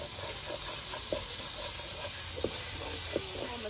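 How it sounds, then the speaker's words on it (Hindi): Red chilli and other spices fried in a pan for a dhaba-style egg masala curry, making a soft, steady sizzle with a few sharp scrapes and clinks of stirring and no voices. "सारे मसालों को आपने 1 मिनट तक भून लेना है।"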